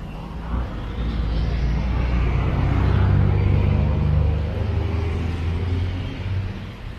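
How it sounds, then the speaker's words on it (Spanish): Heavy dump trucks rolling along a city street in El Salvador, a deep engine rumble swelling as they pass close by, steady and loud with traffic noise around, no talking. "Camiones de volteo."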